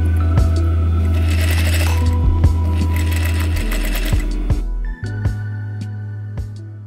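A sewing machine runs in steady continuous bursts, stitching gold braid trim onto the collar of a Rococo suit jacket made from old curtains, with its motor hum pausing and restarting as the work is repositioned.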